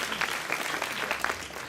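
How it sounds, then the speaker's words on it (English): Applause from a gala crowd honoring a guest, dense steady clapping filling the room throughout at moderate level with no clear voice on top. "Give Christine a big round of applause."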